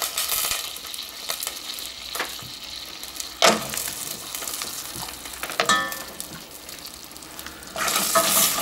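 Milk chocolate melting with shortening is stirred steadily in a pan, a continuous soft sizzle and scrape with occasional louder utensil strokes and a brief rise near the end, no voices.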